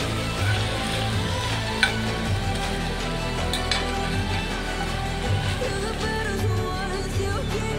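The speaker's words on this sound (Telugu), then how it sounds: "మొత్తం ఫ్రై అయిపోయింది." Potato-chip-like evening snack pieces frying in hot oil, a steady soft sizzle and crackle running continuously without talk.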